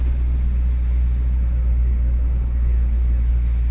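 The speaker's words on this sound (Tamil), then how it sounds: "வண்டி வருது உங்களுக்கு" A vehicle on a forest road at night in Sathyamangalam, heard as a steady, deep engine rumble that stays constant and close for a few seconds, with no talk over it.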